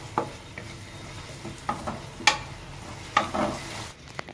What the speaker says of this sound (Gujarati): મરચાની ને આદુની પેસ્ટ બનાવી નાખી દઈએ મરચાંની પેસ્ટને આપણે એક મિનિટ પકાવી દઈએ